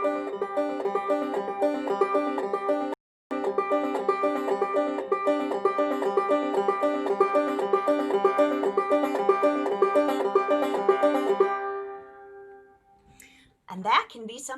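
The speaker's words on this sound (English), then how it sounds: "when you are featuring yourself playing a banjo tune" An old-time clawhammer banjo tune with thumb pull-offs on the drone string rings out as a steady, bright rolling pattern, broken by a brief gap, before the playing fades and a small handling noise follows.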